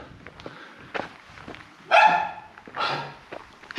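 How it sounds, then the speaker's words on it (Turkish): A dog barks from inside a house in a Black Sea mountain village in Sinop, giving two or three muffled, mid-distance barks among faint rustling and footsteps. "İçeride bir de köpek havladı."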